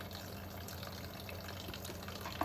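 Water runs steadily while tumbled tiger iron rocks are rinsed, a soft continuous splashing wash with no voices.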